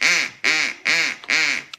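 A person imitates a duck with four loud, nasal quacks in an even rhythm, each short and close, followed by a brief click.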